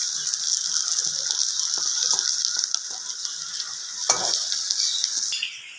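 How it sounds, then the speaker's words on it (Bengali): Fish roe fries in oil in a karahi with a soft, steady hiss and faint crackle, and a few light scraping stirs and a clink are heard over it; the sound is quiet and even throughout. "কড়াতে আমি ডিমটা দিয়ে দিলাম, ভালো করে ভেজে নেব"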